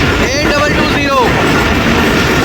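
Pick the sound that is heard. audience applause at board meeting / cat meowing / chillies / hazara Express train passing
hazara Express train passing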